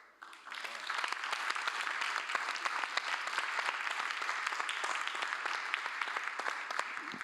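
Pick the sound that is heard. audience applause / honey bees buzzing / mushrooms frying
audience applause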